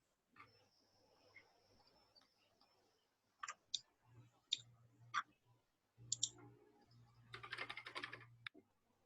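Typing on a computer keyboard comes through as sparse, quiet key clicks, then a quicker cluster of taps near the end, with faint low hum underneath.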